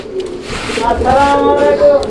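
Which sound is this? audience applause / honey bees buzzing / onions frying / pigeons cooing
pigeons cooing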